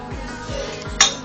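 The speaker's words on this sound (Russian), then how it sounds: "Разминаем банан вилкой." Fork mashing banana in a dish: soft rhythmic pressing and scraping strokes, three or four in a row, ending with a brighter clink of metal against the bowl.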